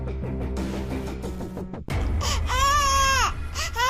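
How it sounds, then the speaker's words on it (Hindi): A small baby's thin, rising wail swells up in the second half after a stretch of soft background music, sounding close and strained. "किसी छोटे से बच्चे के रोने की आवाज आ रही है।"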